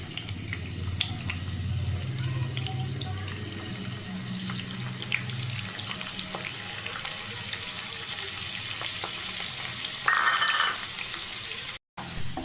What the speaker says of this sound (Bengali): তেলটা গরম হয়ে গেছে, এখন দিয়ে দিচ্ছি কুচনো পেঁয়াজ